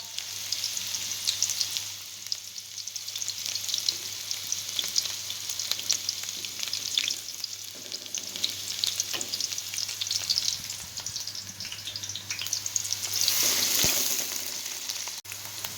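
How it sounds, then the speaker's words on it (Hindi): Finely chopped onions, two medium ones, frying in hot oil in a pot, a continuous crackling sizzle with intermittent stirring scrapes and a brief louder burst near the end. "अब मैं इसमें डालूँगी प्याज।"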